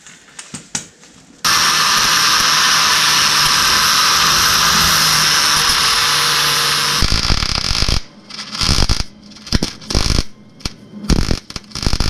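Welding under a Chevy C10 truck produces a loud, continuous buzzing hiss lasting several seconds. It then breaks into short sputtering bursts and crackles with gaps between them.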